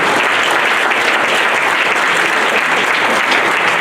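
An audience at a business mixer event applauds loudly and continuously, a dense steady wash of many hands clapping close by, with no voices heard over it.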